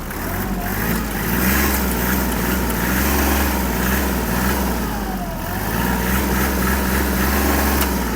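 A small 1463 cc Kubota D1463 diesel engine on a Kubota GL-25 mini tractor runs steadily up close, its low chugging drone rising and falling slightly as the revs pick up.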